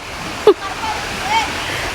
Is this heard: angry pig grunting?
no